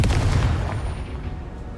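Bombarda and Confringo spells exploding in Hogwarts Legacy: a loud, deep blast with a rumbling low boom that slowly decays and fades out.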